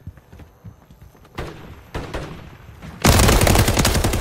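Gunfire in Modern Warfare 3, a few sharp scattered shots followed by a sudden loud sustained burst of rapid fire near the end.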